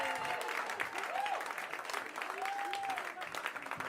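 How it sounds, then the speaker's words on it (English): Comedy festival audience clapping between contestants, a moderately distant wash of applause with a host's voice talking over it and a few vocal whoops. "keep that applause going for your next contestant"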